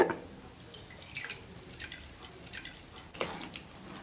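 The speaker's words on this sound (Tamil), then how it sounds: "இப்போ வந்து லைட்டாக தண்ணி சேர்த்துங்க அதிகமாக சேர்க்கக்கூடாது" Water poured lightly into semolina idli batter in a home kitchen, heard as quiet, close drips and small splashes, with a slightly sharper drop near the end.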